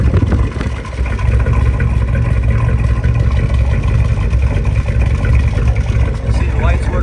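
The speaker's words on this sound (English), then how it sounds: "Let's go around back and listen to that beautiful music coming out of the tailpipes." A 1965 Chevrolet Corvette convertible idling with its exhaust running, a steady deep low rumble heard from close behind the tailpipes, holding an even level throughout.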